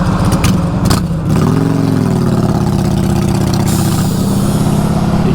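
A 2022 Honda Fury V-twin with straight pipes revs up from idle, a loud close throaty burble rising in pitch and holding a steady lumpy rumble.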